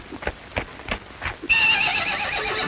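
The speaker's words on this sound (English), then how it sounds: "He's a mighty good-looking horse." A stallion neighs in a loud, close whinny that rings on for over a second, preceded by a few rhythmic hoof clops.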